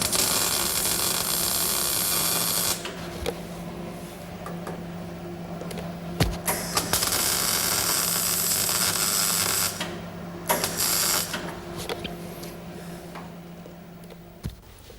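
Welding during car body repair makes a loud, steady sizzling hiss in long runs broken by short pauses and sharp pops, close by.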